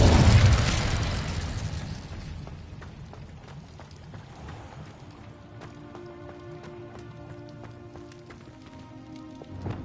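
Incendio fire spell cast in Hogwarts Legacy: a loud, rushing fiery burst at the start that gradually dies away over a couple of seconds, leaving sustained musical tones beneath.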